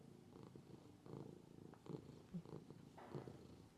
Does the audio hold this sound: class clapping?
no